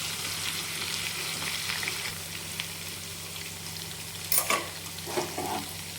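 Stuffed brinjal masala curry is stirred in a pan, giving a steady low sizzle with soft scraping and a few louder spoon clatters near the end.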